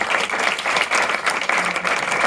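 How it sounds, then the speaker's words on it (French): An audience claps together at a regional tourism partnership event, applauding four partners in a dense, even burst of hand claps that runs steadily for a couple of seconds. "On applaudit nos 4 partenariats."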